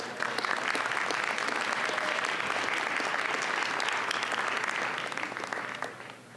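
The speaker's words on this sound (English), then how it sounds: "please raise your hand and let's give them a round of applause" Steady, dense audience applause at a documentary screening and panel, sustained at an even level for several seconds before tapering off near the end.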